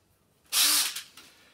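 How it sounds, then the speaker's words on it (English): A power drill driving a Chimney Typhoon rotary sweeping brush up a stove flue whirs up in a short high-pitched burst, then briefly revs again before stopping, close and fairly loud. "Make sure you've got a setting on your drill"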